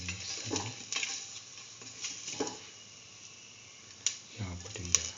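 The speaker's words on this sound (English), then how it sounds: "Put in the cardamom pieces, cardamom pods, salt and mix thoroughly." Cardamom pods and salt being mixed into a chicken curry with mustard and coconut milk, giving soft, irregular stirring scrapes and light clinks of utensil on pot, close by, with a few louder knocks near the end.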